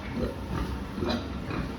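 Pigs on a farm grunting and snuffling close by, a steady low rumble of overlapping grunts with no talk.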